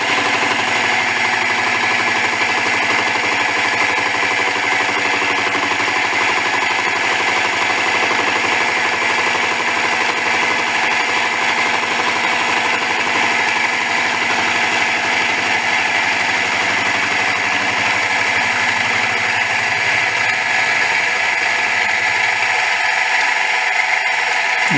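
Lathe making a skim cut across the face of an XS650 axle nut, a steady, loud, continuous mechanical whine and hum of the machine with the cutting noise running throughout, close by and without any talking.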